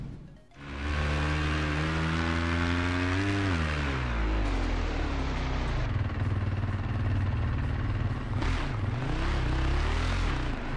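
A 2015 KTM 450 SMR supermotard, a street-legal single-cylinder bike, revs hard close up. Its pitch climbs, drops at a shift, then holds a loud, buzzy drone for several seconds.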